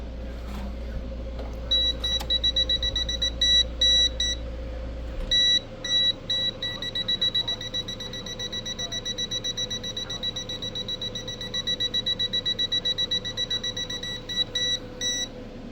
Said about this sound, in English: I think it just beeps. I think that's all it does,